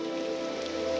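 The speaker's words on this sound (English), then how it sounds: "The rain's coming through you." Steady rain falling in the video game Morrowind, a constant close hiss of drops spattering on surfaces with no pauses and no voices.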